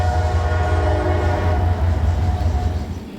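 A CSX diesel locomotive, unit CSXT 7835, rolls past with a loud, steady, low rumble and a constant engine drone that fills the whole stretch without a break.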